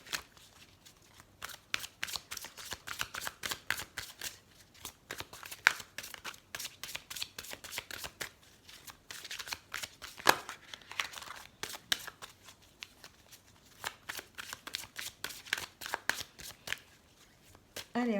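Oracle cards being shuffled by hand in a steady run of quick, close riffling clicks that continues without pause for a long stretch, with faint speech now and then beneath it.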